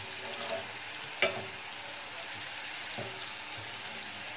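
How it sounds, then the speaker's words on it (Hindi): Garlic sizzles as it browns in hot oil in a pan for homemade hair oil, a steady close crackling hiss with a couple of sharper pops, no talking. "लहसुन काफ़ी ब्राउन हो चुका है, अभी और भी इसको मैं ब्राउन करूँगी"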